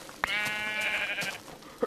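A single drawn-out sheep bleat from Minecraft wavers for about a second, clear and close, with a couple of faint clicks around it.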